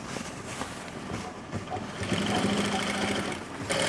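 Sewing machine running a continuous top stitch along a seam of Korean-style pants, a steady close whirring needle rhythm that grows slightly louder partway through.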